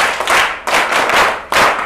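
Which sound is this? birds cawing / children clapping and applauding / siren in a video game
children clapping and applauding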